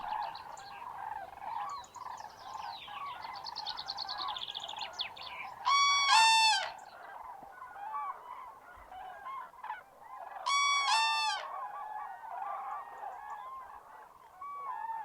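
A winter forest flock of cranes gathered in large numbers, giving clustered honking calls and trumpeting bursts that overlap at moderate distance, with two louder, sharper calls rising above the chorus.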